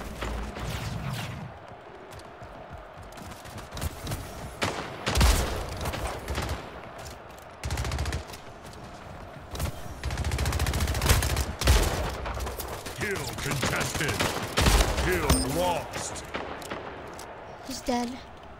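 Automatic assault rifle fire in the arena shooter Splitgate, loud bursts of shots repeating through the clip over game effects and a voice talking throughout.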